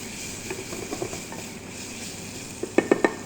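Onions and cumin being stirred in a pan with a wooden spoon, a soft scraping and faint sizzle with a few louder knocks of the spoon against the pan near the end, no talking.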